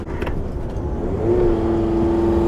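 A minibus engine strains in low gear up a steep 12% mountain road, a steady droning hum that rises slightly in pitch and loudness as it climbs.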